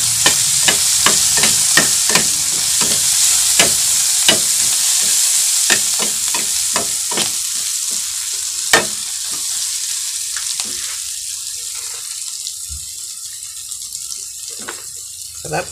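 Onions frying in a pan, sizzling steadily while a utensil stirs and scrapes with repeated sharp clinks, the clatter thinning out toward the end, at an outdoor fishing-trip cookout in a park at Los Baños, Laguna.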